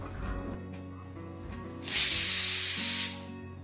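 Pressure cooker on the stove, holding jackfruit seeds boiling in water, lets out a loud steady steam hiss lasting just over a second, rising over low kitchen hum and fading off abruptly.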